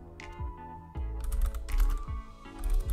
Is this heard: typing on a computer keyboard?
yes